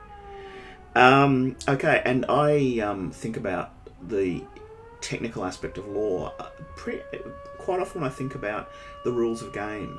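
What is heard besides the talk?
fire brigade alarm siren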